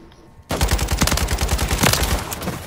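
Automatic gunfire in Call of Duty Modern Warfare 3 breaks out after a quiet moment, a fast, loud burst of rapid shots that carries on to the end.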